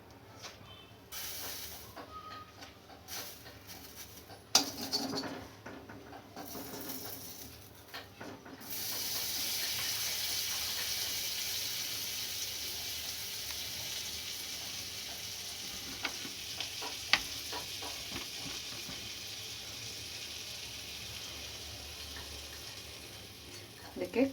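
Sweet corn kernels frying in butter in a pan give off a steady sizzle that swells louder partway through and holds as a continuous hiss, with a few clinks and stirring sounds.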